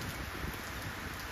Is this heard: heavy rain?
yes